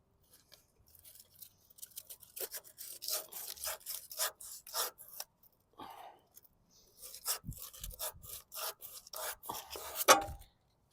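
Irregular scratchy rubbing strokes of sandpaper against wood, close and fairly faint, come in short bursts separated by brief pauses.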